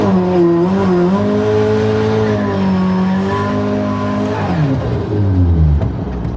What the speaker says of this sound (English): this is what we call a rolling burnout